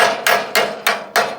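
Welder's hammer banging rust off a tractor trailer, five sharp metallic strikes in an even rhythm, loud and close with ringing decay between blows.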